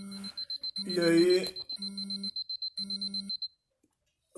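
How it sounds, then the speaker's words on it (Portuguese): A digital alarm clock goes off in a home during a live online broadcast: quick high electronic beeps in steady bursts, briefly overlapped by a voice, then cutting out abruptly. "o meu alarme resolveu tocar justamente agora."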